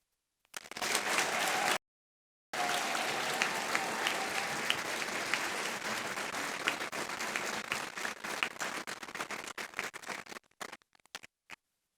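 Sustained audience applause at a doctoral convocation ceremony, a dense crowd of clapping that starts, breaks off briefly, then swells again for several seconds before thinning into a few scattered final claps.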